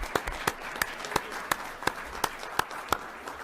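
A sparse round of applause rises in a state legislature hearing room for people who testified, heard as faint, evenly spaced individual claps from a small group rather than a full crowd.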